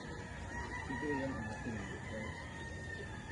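A White Kelso gamefowl rooster on a gamefarm crows once in the middle distance, its call rising over steady farm background noise and faint voices.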